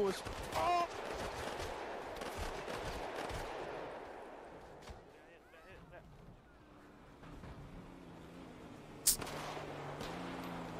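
Video game gunfire crackles in dense bursts early on, then fades under game noise and a voice, ending with one sharp loud shot near the close.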